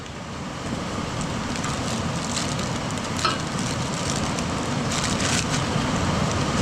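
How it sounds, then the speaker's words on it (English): Steady rain pattering down, a dense even hiss throughout with occasional louder drips, fairly close and continuous. "My goodness, it's raining."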